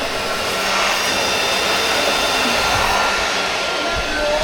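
A hair dryer blows continuously at full power, a loud, steady rushing whoosh held without a break for the whole stretch, close and alone.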